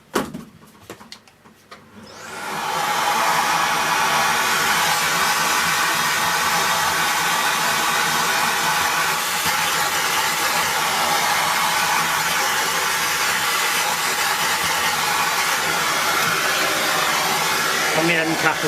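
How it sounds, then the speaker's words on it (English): A vacuum cleaner starts up after a few seconds of handling noise and then runs as a steady, loud broadband whoosh, sucking dust and gunk out of the end cap bearing of a Dyson V6/V8 cordless powerhead. "I'm going to get the vacuum cleaner and just vacuum this out"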